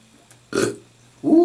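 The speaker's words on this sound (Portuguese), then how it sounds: "Arrotei." A person belches twice at close range in a quiet studio, a short gurgling burp followed by a longer, louder one after a brief pause.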